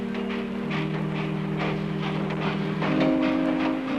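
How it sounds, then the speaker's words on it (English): Train starting to move, a steady rumbling roar with sustained tonal hum and rhythmic clanking pulses, loud and continuous with no voices. "the train gave a sudden lurch and started moving"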